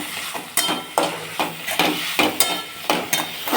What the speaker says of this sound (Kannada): ಈಗ ಇದನ್ನು ಕೂಡ ಫ್ರೈ ಮಾಡ್ಕೊತಾ ಇದ್ದೀವಿ